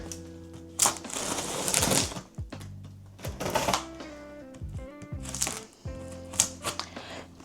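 Packaging of a heavy 10 kg machine being opened up close: bursts of crinkling, tearing and rustling with clicks and thuds scattered over several seconds, with a steady tonal hum running underneath throughout.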